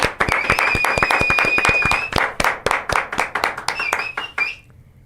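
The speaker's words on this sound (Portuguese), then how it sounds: "uma salva de palmas para o grande Busnello." An audience claps for a guest, a brisk run of sharp individual hand claps that thins out toward the end, with a high electronic tone ringing underneath for stretches.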